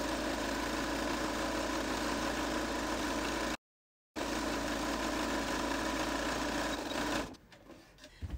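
Sewing machine stitching the base of a cloth shopping bag, a steady close mechanical whir that stops briefly, resumes, then cuts out near the end, leaving quiet handling noise.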